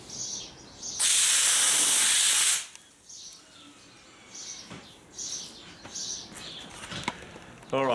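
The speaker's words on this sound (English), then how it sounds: "we'll start bloody sandblasting and see if this thing works" A loud, harsh hiss of a sandblaster spraying bursts out for about a second and a half, then cuts off, leaving quieter rustling and a few short high chirps.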